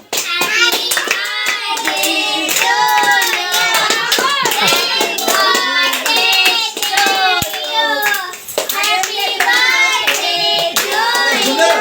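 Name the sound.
people clapping hands loudly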